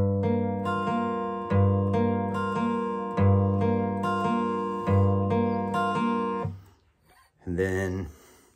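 An acoustic guitar plays the ending of a song, ringing out on open strings in a repeating pattern of plucked notes, close and clear, followed by a short pause and a brief sliding phrase.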